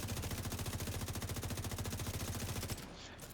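Sustained rapid automatic gunfire in The Division 2 video game, a loud, steady rattling burst lasting nearly three seconds as a target is shot to pieces, then cutting off abruptly.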